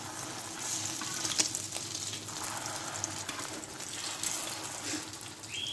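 Chickpea and chicken kababs (kabuli chana tikkis) fry steadily in a pan over medium heat, giving a continuous, fairly close sizzle with faint crackles and no talking.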